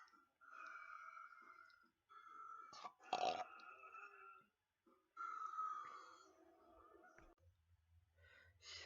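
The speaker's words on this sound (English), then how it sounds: "watch some of my Coca-Cola burps" Several Coca-Cola burps come one after another, croaky and close, with a sharp crackle and breathy gaps between them in an otherwise quiet room.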